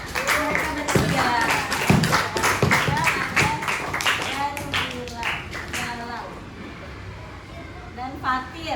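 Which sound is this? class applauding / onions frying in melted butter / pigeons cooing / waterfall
class applauding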